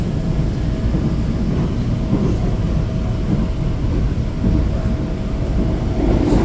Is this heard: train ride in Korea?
yes